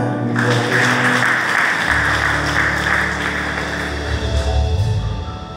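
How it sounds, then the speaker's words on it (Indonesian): A church congregation claps together during a sermon, a loud, dense burst of hands over a sustained musical backing, keeping steady for several seconds before easing slightly toward the end. "Tepuk tangan buat Tuhan."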